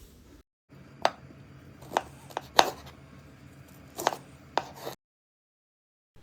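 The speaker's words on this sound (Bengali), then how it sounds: "একইভাবে আমি বাকি সবগুলো আমও কেটে" A knife cuts mangoes into long strips for a sweet-sour mango chutney, six or so sharp, separate chops against a board at irregular intervals, close and clear with quiet pauses between.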